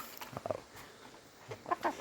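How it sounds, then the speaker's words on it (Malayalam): Native country chicks from a grey junglefowl cross, raised on a poultry farm, give a few short soft cheeps and clucks in scattered bursts, near and faint against quiet farm background. "അപ്പോൾ ഇതൊക്കെയാണ് വളർത്തുന്ന കോഴിക്കുഞ്ഞുങ്ങൾ"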